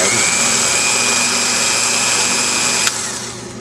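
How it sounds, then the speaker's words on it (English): A power drill runs steadily, boring through old parts on a 1953 Rock-Ola model 1438 jukebox amplifier, with a loud constant whine that cuts off sharply near the end and leaves a lower hum. "I'll go ahead and drill these old things off"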